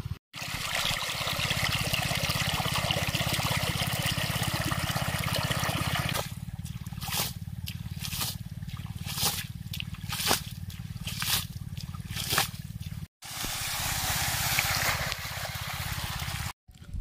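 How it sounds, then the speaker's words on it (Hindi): Irrigation water pours from a pipe into a farm field, a steady broadband gush and trickle running throughout, then breaking into splashy, uneven sloshing with short bursts and a brief dropout before the flow resumes. "और इधर पानी आना शुरू हो गया है।"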